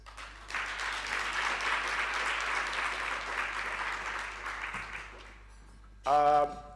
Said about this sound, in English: So can you please give the round of applause to PPS?